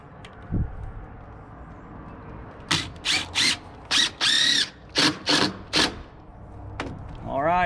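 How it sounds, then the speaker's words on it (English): A power drill drives screws into a wooden trim board on a castle build, sounding in about eight short, loud bursts of whirring, each starting and stopping sharply, with quiet pauses between them. "Throw a couple of screws in it."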